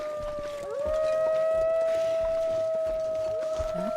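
Wolves howling in The Long Dark, a survival video game: long sustained tonal howls overlapping and holding steady, fairly loud and close, with no talk over them.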